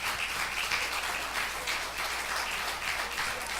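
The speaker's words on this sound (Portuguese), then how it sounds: "pode aplaudir ao Senhor" A church congregation applauding together, a dense continuous wash of clapping that holds steady from start to finish at moderate loudness, heard from within the room.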